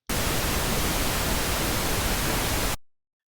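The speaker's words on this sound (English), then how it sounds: "and pink noise" Pink noise generated by a test oscillator in Logic: a continuous, even rush with a fuller, deeper low end than white noise, holding steady for under three seconds before fading out quickly.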